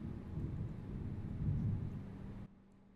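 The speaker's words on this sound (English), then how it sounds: "You guys hear that thunder?" Low, rolling thunder rumbles at a distance for a couple of seconds, fairly faint and steady, then cuts off abruptly.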